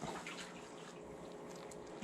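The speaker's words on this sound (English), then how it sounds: "And then you can hear when the hose gets emptied." Water drains by gravity through an aquarium hose until it is empty, making a faint, steady gurgling trickle with a few bubbly splashes over about two seconds.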